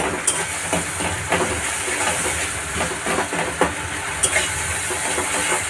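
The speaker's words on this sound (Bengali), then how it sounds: "লবণ, ভালো করে টমেটো কষিয়ে নিচ্ছি।" Tomatoes sautéing with salt in a pan for a home-cooked potato curry: a steady, fairly loud sizzling hiss with scattered clicks and scrapes from stirring, and no talking.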